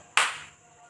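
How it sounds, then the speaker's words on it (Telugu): A single sharp hand clap rings out close by in a quiet room during a family cup colour matching game, its bright burst decaying quickly into near silence. "చప్పట్లు కొడుతున్నాను."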